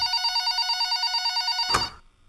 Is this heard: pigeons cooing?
no